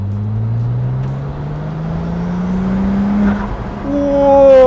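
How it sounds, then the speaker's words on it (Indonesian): A Ferrari 296 GTS V6 hybrid engine revs steadily upward with a rising tone, then snaps to a higher, sharper rev near the end, loud and close with no talking. "Ini baru nih, kita bisa ngerasain merdunya dari mesin V6 ya."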